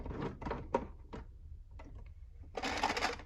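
A sewing machine stitches fabric for ruffle shorts in short, quick bursts of mechanical whirring, with a few pauses and clicks between them and a longer, louder run at the end, close by and heard alone.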